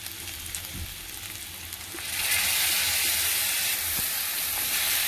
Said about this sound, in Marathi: आता टोमॅटो प्युरी घालूया आपण